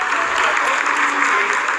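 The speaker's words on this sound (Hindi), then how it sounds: "हाँ, आप तालियों के गड़गड़ाहट से सुन सकते हैं" Continuous applause fills the room during a Chandrayaan-3 lunar landing broadcast, a dense even clatter of many hands with voices mixed in.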